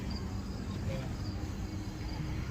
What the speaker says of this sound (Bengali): ঘ্যা গো শব্দ করতেছে, ঝিঝি পোকা ব্যাঙেরা বলার বাইরে